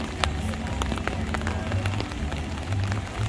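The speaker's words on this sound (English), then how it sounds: "Rain is starting to pick up a little bit here." Rain falling steadily at Disneyland during Hurricane Hilary, a dense hiss of drops with scattered sharper splatters, constant and moderately near for the whole stretch.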